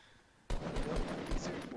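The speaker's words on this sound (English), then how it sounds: "He just shot at somebody that you couldn't even see." Rapid gunfire in the Fortnite Battle Royale video game erupts abruptly after a quiet moment, a loud dense burst of repeated shots with a few stronger cracks standing out.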